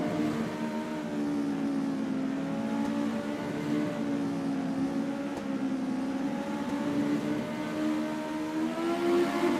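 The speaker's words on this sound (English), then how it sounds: "I love listening to the roar of these engines." A pack of US Legend race cars roars steadily around North Wilkesboro Speedway, their engines blending into a loud, sustained drone with slowly shifting pitch and no voices over it.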